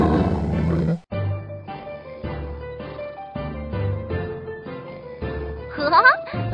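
A cartoon tiger in a children's animated retelling of Wu Song and the tiger roars for about a second. Melodic background music then carries on after a brief break, with a rising flourish near the end.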